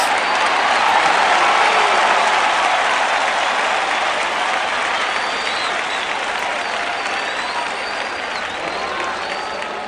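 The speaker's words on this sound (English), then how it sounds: "I do like the crowd noise" Stadium crowd noise from the Draft Day Sports Pro Football 2021 game, a loud continuous roar of cheering and clapping that fades slightly over time, with faint whistles riding on top.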